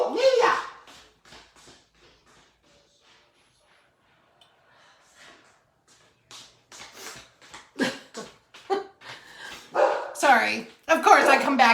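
A dog barks in sharp bursts at the start, goes quiet, then barks and yips repeatedly and louder toward the end, close by, with voices mixed in at times.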